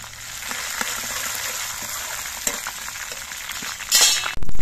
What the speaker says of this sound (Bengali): আদাটা ভাজা হয়ে যাওয়ার পর এর মধ্যে আমি কয়েকটা চেরা কাঁচা লঙ্কা দিচ্ছি।